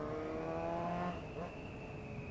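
A 600cc motorcycle being ridden, its engine holding a steady tonal drone that shifts in pitch as it changes speed, fairly faint beneath rushing wind.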